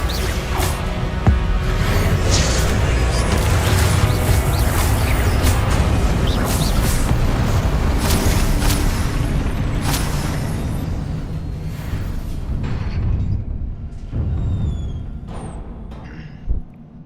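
Fiery blasting spells from a Hogwarts Legacy boss fight burst again and again in a loud, dense barrage of crashing booms and whooshes, easing off toward the end with a final sharp hit.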